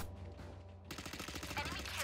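Rapid gunfire in the tactical shooter Valorant, a dense volley of shots starting about a second in after a quieter opening, with players' voices mixed in alongside the game audio.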